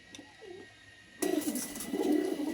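Low coos of Andhra-line pigeons sound softly at first, then a burst of close rustling and fluttering noise joins the continued cooing.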